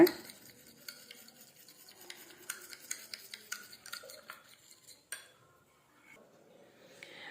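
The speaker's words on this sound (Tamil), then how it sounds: "இப்போது இந்த ரெண்டையும் சேர்த்து நல்லா நீங்கள் மிக்ஸ் பண்ணணும்" Two ingredients being mixed together in a bowl: a quick run of light clinks and scraping taps, close and quiet, stopping briefly near the end before a little more movement, with no talking.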